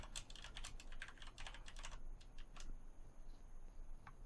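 Rapid clicking of computer keys typing in a burst of quick, irregular strokes, then a few sparser taps over a steady faint background hum, with no talking.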